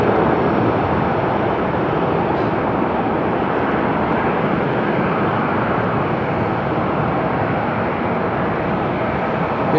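A plane at Haneda Airport Terminal 2 gives a steady, loud, broadband engine roar that holds constant for the whole stretch, with no talking over it.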